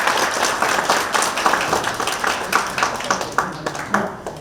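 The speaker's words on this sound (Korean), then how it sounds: "뜨거운 박수 부탁드립니다" Audience applause at a Nonsan book launch event as a city council chairman arrives, a dense sustained clapping that thins into scattered individual claps toward the end.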